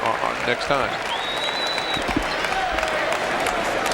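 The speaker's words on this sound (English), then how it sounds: "He gets a nice round of applause" An arena crowd at a Western Carolina Catamounts versus Bradley Braves college basketball game applauding a player leaving the court, a broad steady clapping wash under a commentator's voice, with squeaking sneakers and a whistle-like tone.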